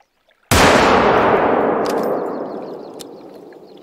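A single loud rifle shot fired at a bear in the hunting game Hunter: Call of the Wild, a sudden crack after near silence that decays in a long rolling echo across the Yukon landscape.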